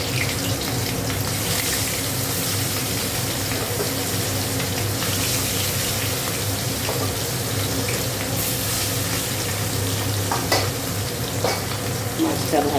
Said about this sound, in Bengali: আর এখানে দেখো মাছটা ভেজে নিচ্ছি